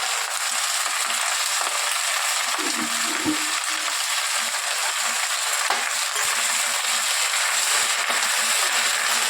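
Saag greens (tel shak) frying in oil in a pan with salt, a steady broadband sizzle running throughout, with occasional faint scrape and clink of stirring.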